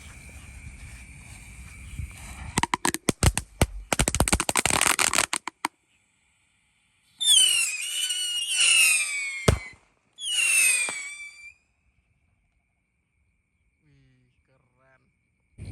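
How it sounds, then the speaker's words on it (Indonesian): A rapid crackling burst of loud firecracker pops runs for a few seconds, then four whistling Pirotar rockets shriek upward in two separate launches before falling quiet, at night. "Selanjutnya kita nyalakan mercon roket pirotar 4 sekaligus ya."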